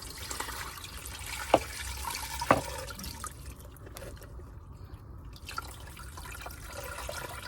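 Water trickles and splashes as it is poured over broccoli in a pot on a van stove, a faint steady wash with a couple of sharper drips and clinks.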